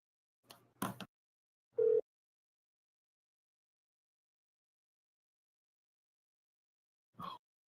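A single short ringback tone sounds on a phone call, faint and brief, with breathy sounds before it and a long silence after.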